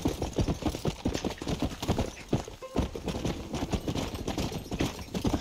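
A horse's hooves clip-clop in a steady, close rhythm in the video game Red Dead Redemption, the beats continuing evenly throughout with faint ambient sound underneath.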